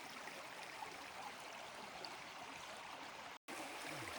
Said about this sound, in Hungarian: Meglehetősen keskeny ösvényen kell bukdácsolnunk a szüntelen csobogás mellett.